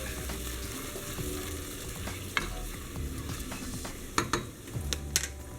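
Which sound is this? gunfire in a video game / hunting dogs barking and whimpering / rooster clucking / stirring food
stirring food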